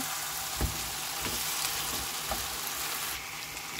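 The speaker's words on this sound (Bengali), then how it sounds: "ভালো করে এটা মিক্স করে নিতে হবে" Food frying and being stirred in a pan, a steady close sizzle with scraping stir strokes and a few soft knocks, no voices.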